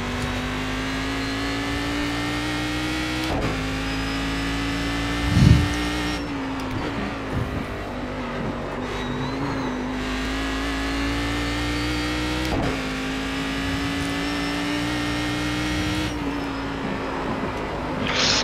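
Simulated race car engine at full throttle through a fast lap in iRacing, a loud steady drone with repeated upshifts and lifts every few seconds and a brief thump midway, no voices.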